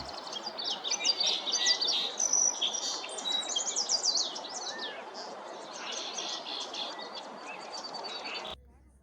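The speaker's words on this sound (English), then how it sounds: "A nice view of a male Gila woodpecker." Male Gila woodpecker calling in the Tucson desert: sharp chirping calls near and far, layered with other birdsong over a steady insect-like hiss, fading out at the end.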